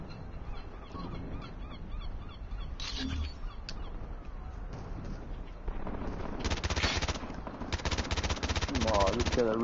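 Machine gun fire from a Call of Duty multiplayer match, with sustained rapid bursts growing louder in the second half and continuing to the end, under faint talking.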